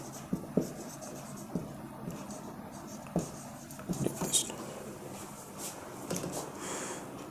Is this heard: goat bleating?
no